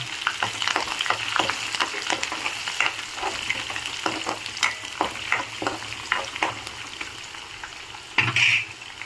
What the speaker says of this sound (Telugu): ఇప్పుడు ఇందులోకి ఆనియన్స్, పచ్చిమిర్చి అండ్ కరివేపాకు వేసుకుందాము.